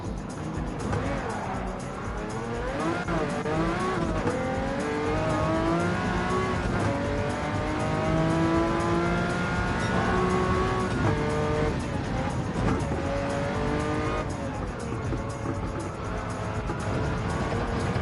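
A GT1 race car in Gran Turismo 7, fitted with a mud tire on the front right, drives hard with a continuous engine roar that rises and falls through gear changes, mixed with tire noise.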